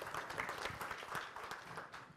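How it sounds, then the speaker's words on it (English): An audience claps for a woman picked from the crowd at a live business talk, a quiet but steady patter of many hands lasting about two seconds. "Give her a round of applause"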